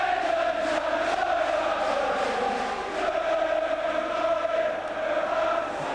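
A football crowd roars and chants at the Swindon Town vs Gillingham Third Division play-off final replay, a loud, sustained wall of voices with swelling chant tones across the whole stretch.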